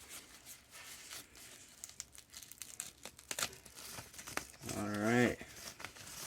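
Tape and packaging being pulled and crinkled off an Xbox Series X console box, with scattered crackling tears and a brief spoken word near the end.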